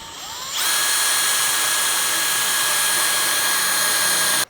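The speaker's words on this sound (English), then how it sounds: "So we've drilled our 9mm hole." A power drill bores a 9mm hole through a metal bar for a bed fly conversion kit, a loud, steady high-pitched whine that starts abruptly, holds constant for about four seconds, then cuts off sharply.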